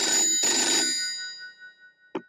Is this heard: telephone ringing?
yes